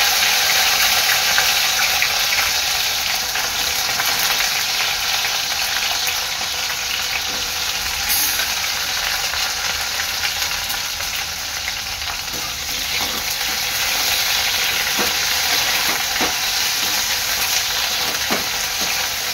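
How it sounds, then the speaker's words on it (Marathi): Okra (bhindi) deep-frying in hot oil makes a dense, roaring bubble and sizzle that holds steady for the whole stretch, with faint utensil clicks near the end. The sound is close and there is no speech. "मी आपली भेंडी ह्याच्यामध्ये डीप फ्राय करून घेणार आहे"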